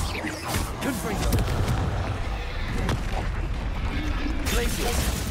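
A Confringo blasting spell explosion in the video game Hogwarts Legacy, a burst of booming impacts and crackling debris in a steady loud din, with a voice speaking over it.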